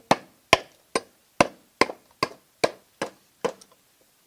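A saschiolo adze chops into wood to hollow it out, about ten sharp, evenly spaced strikes roughly every half second, close and loud, each blow a crisp knock with a short woody decay, and no voices.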